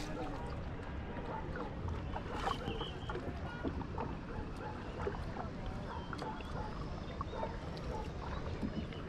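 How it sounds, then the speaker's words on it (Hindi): A shikara boat glides across Dal Lake in Srinagar, its gentle water and paddling noise soft and steady throughout, with faint voices murmuring in the background. "और ये देखिए हमारी शिकारा राइड"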